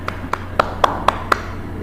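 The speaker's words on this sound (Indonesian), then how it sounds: "Ya, tepuk tangan dulu, sudah selesai." Six sharp hand claps at a university class presentation, evenly spaced in a quick rhythm, close and fairly loud, with no talking.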